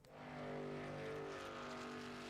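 A NASCAR race truck engine at Daytona in the iRacing sim, a steady buzzing drone with a slight rise in pitch that holds for a couple of seconds, moderately loud and with no talking.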